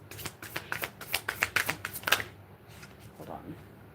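A deck of tarot cards being shuffled up close, a quick run of crisp riffling flicks lasting about two seconds, followed by softer handling.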